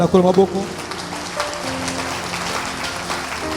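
A church congregation claps and applauds, a dense, sustained patter of many hands. A voice speaks at the very start, and the applause continues steadily underneath.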